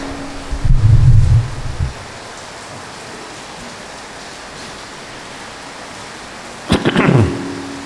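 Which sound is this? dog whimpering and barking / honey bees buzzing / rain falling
rain falling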